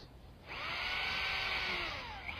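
A Smart Bit power drill bores a countersunk hole into a deck board: a high, smooth whine rises sharply, holds for about two seconds, then drops away.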